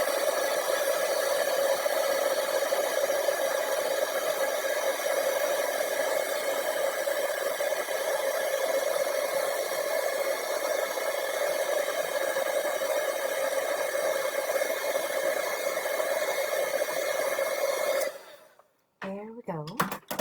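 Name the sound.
heat gun heat embossing a handmade card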